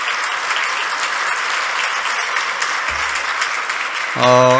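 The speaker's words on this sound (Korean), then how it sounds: "박수 한번 해주세요" A church congregation applauds during a Korean Sunday worship service after an organist's return is announced, a steady wash of clapping that fills the room, ending in a brief electronic tone at the close.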